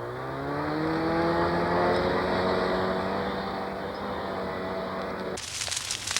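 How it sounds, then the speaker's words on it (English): A giant hydraulic rake machine pushing brush into windrows in a Newfoundland forest clearing, its engine droning steadily with a rising, sustained tone, ending with a burst of harsh scraping and crackling. "The giant rake moves back and forth,"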